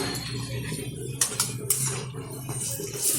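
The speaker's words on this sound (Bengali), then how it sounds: "বড়াগুলো এক পিঠ উল্টে দিচ্ছি" Mixed fritters sizzle steadily in a pan of hot oil, with a few sharp metallic scrapes and clinks as a spatula turns them over.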